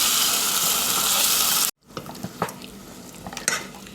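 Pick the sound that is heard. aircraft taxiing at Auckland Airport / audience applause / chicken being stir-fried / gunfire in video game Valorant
chicken being stir-fried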